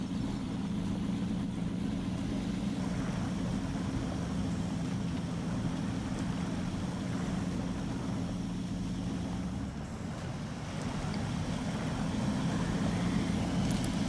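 A Duramax diesel engine with turbo whine drives a modded Hummer H1 in the SnowRunner video game, a steady loud rumble that holds throughout with a brief dip near ten seconds.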